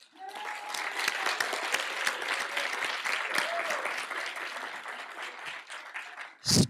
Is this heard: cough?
no